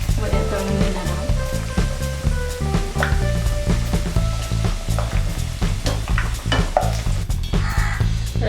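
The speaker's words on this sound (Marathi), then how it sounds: "थोडी लो टू मीडियम अशी फ्लेममध्ये तळून घेणार आहोत" Kachori frying in oil over a low-to-medium flame, a continuous crackling sizzle under steady background music with a few brief clinks.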